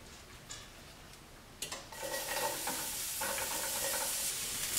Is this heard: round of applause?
no